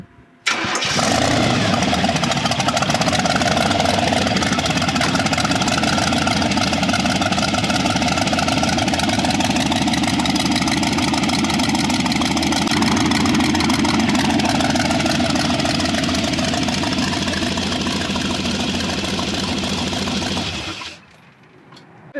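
A 1964 Chevy tilt cab truck with a 348 W block V8 runs at a steady, loud idle close by, its rough mechanical churn continuous for about twenty seconds before cutting off, no talking over it.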